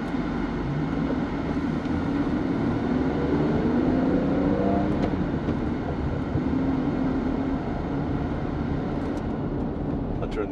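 A Mercedes-Benz R129 SL roadster drives along with a steady, close engine drone and gently shifting pitch as the revs climb and ease, plus road and wind noise throughout.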